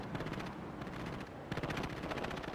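Sustained automatic gunfire in the real-time strategy game World in Conflict, Soviet Assault campaign, a dense battlefield clatter of rapid bursts that swells again midway, with no talking.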